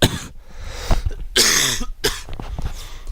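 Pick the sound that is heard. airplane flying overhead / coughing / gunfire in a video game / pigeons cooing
coughing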